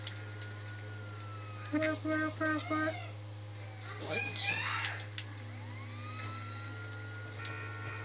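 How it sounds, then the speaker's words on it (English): An ambulance siren in the video game GTA 5 rises and falls faintly in the background, with a burst of honk-like harmonic tones partway through and a brief spoken word over a steady low hum. "Oh crap, the ambulance is like right next to me."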